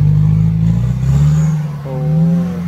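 A car engine revs hard in second gear, loud and close, holding a droning pitch that dips briefly and then climbs again.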